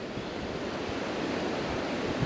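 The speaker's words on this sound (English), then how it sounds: "There's a lot of wind moving through the trees right now." Wind blowing through trees along a forest trail, a steady, full rushing roar like distant surf that holds at an even level throughout with no breaks.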